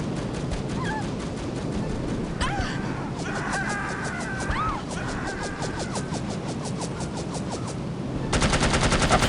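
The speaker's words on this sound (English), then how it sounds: "Stop shooting!" Sustained automatic gunfire from the spy shooter No One Lives Forever, rapid rattling volleys running nearly throughout and growing denser and louder at the end, with game effects layered in.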